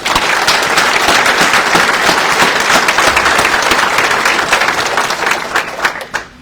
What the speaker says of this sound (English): So how about a round of applause for Captain Jenkins?